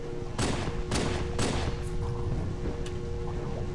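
Rapid gunfire from a Halo 2 battle rifle, Magnum and dual-wielded plasma pistol in an outdoor battle: three heavy bursts early on, then lighter shots over a steady low drone, with no voices.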